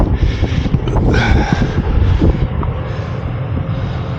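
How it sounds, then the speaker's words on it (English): Wind gusts across a rooftop by a rooftop HVAC unit, buffeting the microphone in uneven rumbling bursts that ease off toward the end, with no talking. "It's windy up here today."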